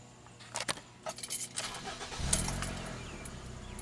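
Keys jingle near the ignition of a Ford Escape before its engine cranks and catches, settling into a low, steady idle.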